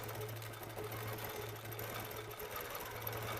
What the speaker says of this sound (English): I'm going to come down and just stitch in that ditch